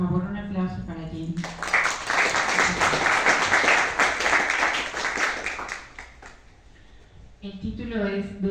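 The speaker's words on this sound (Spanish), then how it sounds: "un aplauso para Jenny." Audience applause at a book presentation, a dense burst of many hands clapping that swells and then fades, with a speaking voice heard before and after.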